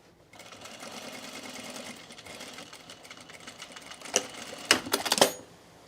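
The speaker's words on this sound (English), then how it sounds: "I'm just going to switch to a regular stitch length, back stitch, and finish out your seam" A sewing machine stitches a seam on canvas cargo shorts, a steady close whirring run at regular stitch length that ends in a few louder, sharper bursts as it back stitches.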